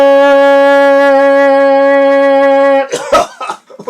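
A long, steady tonal note sung by a man gives way to a short burst of his coughing close to the mic.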